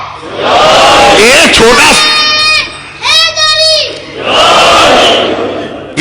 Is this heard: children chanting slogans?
yes